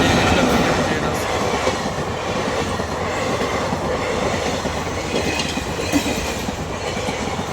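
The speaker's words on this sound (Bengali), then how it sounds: "একটা ট্রেন গেল, তারপরে আরেকটা ট্রেন আসছে, তারপরে গেট খুলবে।" Train rolling past at a railway level crossing: a loud, close, continuous roar with rhythmic wheel clatter and faint squeal, holding steady throughout with no voices.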